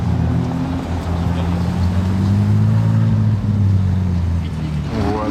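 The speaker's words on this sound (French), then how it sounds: "On voit d'anciennes Porsche et une Dino qui fait son entrée." Classic Porsches and a Ferrari Dino roll in at a gathering of fine cars in Paris, a steady low engine drone holding throughout at close range, with a faint voice in the background.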